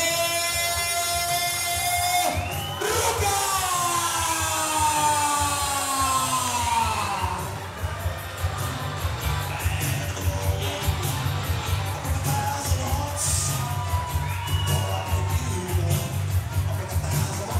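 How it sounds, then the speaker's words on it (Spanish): At a Mexican lucha libre event, a wrestling crowd cheers and whistles, then breaks into applause and mixed shouting. The noise stays dense and fairly loud throughout. "Vamos a darle un fuerte aplauso a esa gran leyenda luchística, América."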